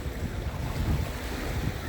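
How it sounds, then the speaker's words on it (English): Waves wash onto the beach of Lake Francis in a steady, low rumbling surge, heard close and continuous with wind buffeting the microphone. "All you can hear is the waves crashing on the beach."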